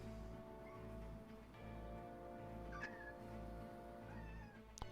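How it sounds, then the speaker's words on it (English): A house cat meows faintly a couple of times in a quiet indoor room, soft and somewhat distant over a steady low hum. "Yeah, my cat wandered in."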